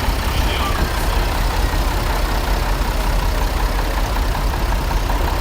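A 1969 Minneapolis Moline G1000 tractor engine idles steadily nearby at a summer tractor parade, a loud, constant low rumble that neither revs nor fades.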